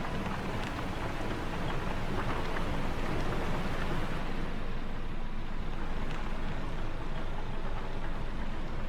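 Rain falls in the video game STASIS: Bone Totem, a dense, loud, continuous hiss of heavy rainfall that holds steady throughout with no talk.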